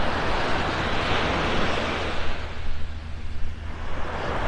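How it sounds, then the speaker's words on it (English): Small ocean waves roll onto the shore at Vanderbilt Beach in North Naples, Florida, a continuous broadband wash with a surge that eases partway through, heard alone with some wind. "Got a few waves out here, little waves rolling on shore"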